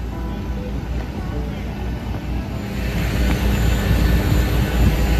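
Jet airliner engine roar at an airport, a steady broadband rumble that holds throughout and swells slightly toward the end, with faint background voices.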